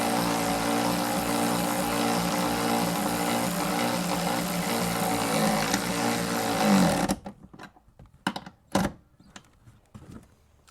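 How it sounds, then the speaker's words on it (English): An electric extended ratchet whirs steadily while removing bolts during a rear air-ride to coil spring conversion, a loud continuous motor drone for about seven seconds, then it stops and a few sharp clanks and knocks follow. "electric extended ratchet. I love this thing. And the other side."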